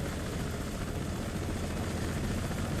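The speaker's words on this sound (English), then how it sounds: "Mi-26 though is a really beautiful looking target helicopter" A Mi-26 heavy helicopter flies in the Broken Arrow video game, its rotor and engine giving a steady, even droning roar with no pauses.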